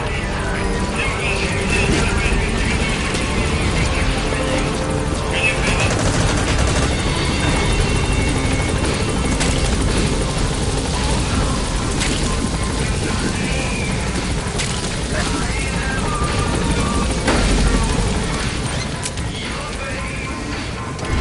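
A helicopter lifts off in Metal Gear Solid V with a dense, steady rotor roar under scattered gunfire and game voices, loud throughout.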